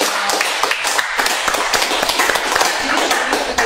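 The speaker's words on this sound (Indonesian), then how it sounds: "kita beri tepuk tangan sekali lagi" Audience applause at an Indonesian film talk show, sharp irregular claps with strong transients that are loud and close, forming a busy, uneven clatter throughout.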